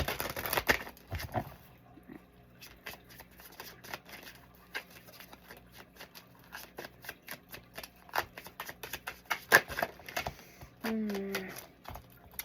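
A deck of tarot cards is shuffled by hand in bursts of rapid, crisp riffling clicks, close and fairly loud, with a brief voice near the end.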